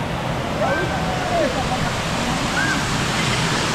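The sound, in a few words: flowing water, waterfall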